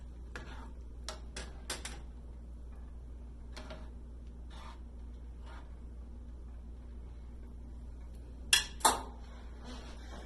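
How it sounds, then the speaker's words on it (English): Broth is stirred into a pot of leeks, producing sparse light clinks and taps of a spoon against the pot, a few scattered knocks with two sharper hits near the end over a faint low hum. "And just stir it in."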